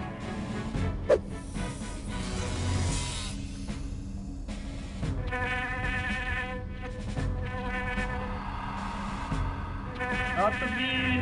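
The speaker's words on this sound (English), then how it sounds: "Not the bees!" Bees buzz in the 1999 video game Septerra Core, a thin whining insect drone over game sounds and music, with a brief sharp hit early on and varying tones through the rest.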